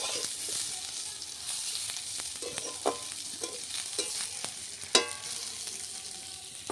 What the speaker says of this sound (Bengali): মাছটা ভাজি অনেকটা তেল চলে গেল